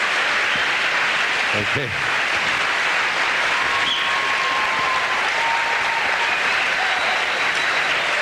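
An audience at a lecture on health and wellness applauds, dense sustained clapping that fills the room throughout, with a brief spoken word partway in.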